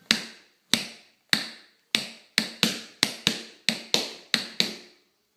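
Crisp tap shoe strikes ring out one after another in a quick, uneven rhythm of flaps, rock steps and ball changes, about a dozen sharp clicks with short decays and no talking.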